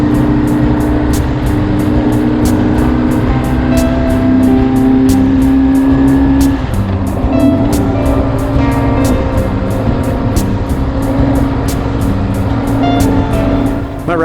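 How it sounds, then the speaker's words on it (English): A BMW R1150R roadster motorcycle riding along country roads through farmland near Emmett, Idaho, in autumn, a loud steady engine drone with wind rush and small changes in pitch, heard up close throughout. "It is Sunday and time to jump on the motorcycle."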